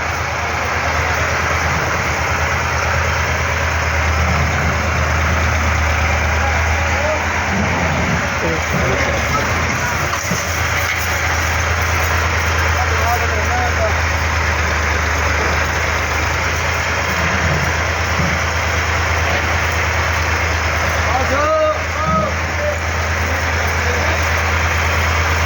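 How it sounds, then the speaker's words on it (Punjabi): A tractor engine idles on a farm with a deep, constant low hum throughout, close and unchanging, while people talk intermittently over it. "ਟਰੈਕਟਰ ਸਾਈਡ ਤੇ ਆਵੇ"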